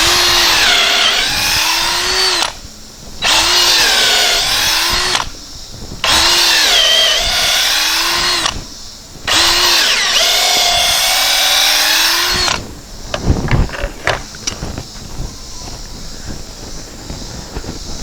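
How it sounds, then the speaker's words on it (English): A power drill whines loudly in several long bursts, revving up and down as it bores a deep hole in pavilion construction, with short pauses between runs, then clattering handling noises. "When the hole is deep, you got to clear the chips every once in a while or you'll stop drilling."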